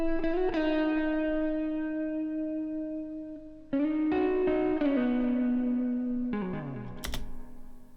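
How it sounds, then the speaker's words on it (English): Electric guitar played through the Amped Gemini plugin's modeled vintage American combo amp with spring reverb and vibrato: sustained chords ring out with a long, splashy reverb tail, fresh strums every few seconds, ending in a sharp spring crash. "you'll actually get to hear quite a lot of that reverb"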